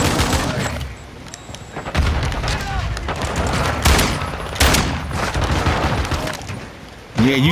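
Shotgun fire in a video game, several heavy booming blasts spaced a second or two apart over continuous busy game noise, with a voice speaking near the end.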